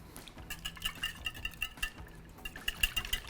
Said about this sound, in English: Now we're gonna whisk it all together.